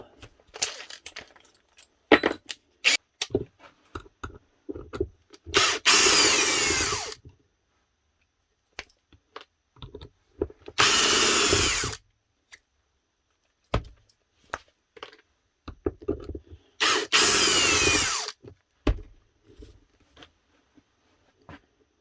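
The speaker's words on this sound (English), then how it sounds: "Actually, just stick it onto the drill." A Metabo cordless drill whirs in three separate bursts of a second or two each, with clicks, clatter and handling noises of tools in between.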